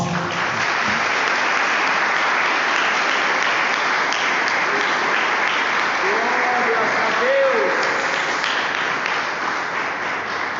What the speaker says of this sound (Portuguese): Vamos primeiro dar ao Senhor uma gloriosa salva de palmas.